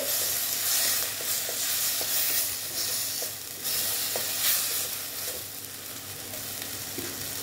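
Grated tomato fries in a pan for a potato curry, giving a steady soft sizzle with faint scraping and clicks as it is stirred, with no voices.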